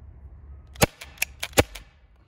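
A Byrna HD non-lethal self-defense pistol fires a quick, uneven burst of about five sharp, close pops, two of them noticeably louder, with quiet room tone in the gaps between shots.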